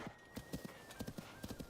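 Spot, a horse in The Legend of Zelda: Tears of the Kingdom, gallops with rapid, rhythmic hoofbeats in quick clusters. The hooves are close and fairly loud, and a faint steady tone runs underneath.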